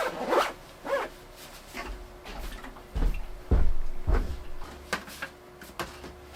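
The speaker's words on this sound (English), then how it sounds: "It's really cold, so I'm gonna zip up here." A jacket zipper is pulled up in a few quick rasping strokes, close and fairly loud, followed by soft rustling of fabric, in a cold setting before heading outside.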